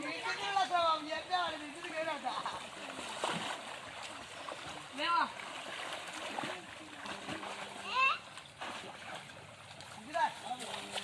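People swimming in water make repeated splashes, some bursts louder and nearer, while children and adults talk and call out over the splashing.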